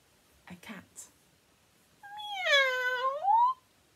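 A human voice imitates a cat's meow for a children's story, a drawn-out, rising and falling mew heard close and clear after a few soft whispered sounds.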